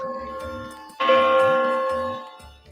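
A church bell rings out with one loud, resonant strike that slowly fades, following softer tones before it, heard alone without talk.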